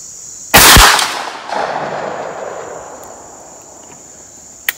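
An H&R 32 gauge shotgun fires a single slug at a range: one sharp, loud blast followed by a rolling echo that fades over a few seconds, with crickets chirping steadily in the background.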